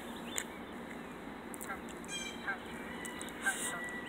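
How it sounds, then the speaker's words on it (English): Ducks call outdoors with a few short, faint honking quacks spread over a quiet, steady background. "There go the ducks."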